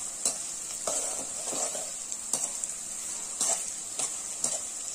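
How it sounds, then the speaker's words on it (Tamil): Adamant creeper (pirandai) sautéing in a pan until golden, a constant high sizzle with sharp, spaced scrapes and taps of a stirring spoon every second or so. "இந்த பிரண்டை பாத்தீங்கன்னா பொன்னிறமா வர்ற வரைக்கும் நம்ம வந்து நல்லா இத வதக்கி விடணும்"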